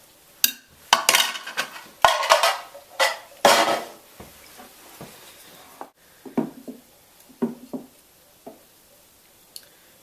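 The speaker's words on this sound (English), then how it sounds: "Mix all the wet ingredients" Wet ingredients with lumps of coconut oil being mixed in a bowl, a close sequence of irregular scraping knocks and clinks from a utensil against the bowl, busier at first and then sparser.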